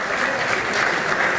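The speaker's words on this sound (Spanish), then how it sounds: "Un fuerte aplauso" A crowd claps in a dense, steady burst of applause that holds evenly for a moment during a formal anniversary ceremony session.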